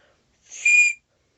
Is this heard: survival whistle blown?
yes